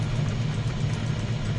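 A train rumbles past nearby with a steady low droning roar and no distinct breaks, a continuous heavy mechanical hum.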